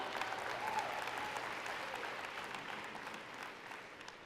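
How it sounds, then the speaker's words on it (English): A crowd at a business conference applauds steadily, a dense wash of clapping that holds at a moderate level and slowly fades, heard alone. "absolutely, clap it up."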